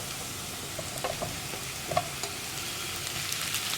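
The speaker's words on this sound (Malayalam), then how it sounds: "നമുക്കിതിലേക്ക് നമ്മൾ കട്ട് ചെയ്ത് വെച്ചിരിക്കുന്ന തക്കാളി ചേർക്കാം" Chopped tomatoes sizzling in a hot pan with softened, translucent onions for a tomato curry, a steady frying hiss broken by a few soft scraping stir strokes near the middle, close and alone with no talk.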